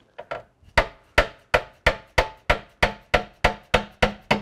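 Repeated sharp hammer blows strike a metal tail light bracket on a 2015 Jeep Wrangler JK at a steady rhythm, about a dozen close, loud whacks with brief ringing decay between them.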